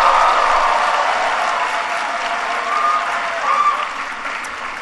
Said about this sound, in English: can everybody please give Grace another big round of applause?